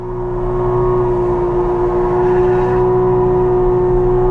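A car accelerating on a racetrack during a Japanese grand prix event to warm its tires, a loud, close, steady engine drone with strong harmonics that rises slightly in pitch, no talk.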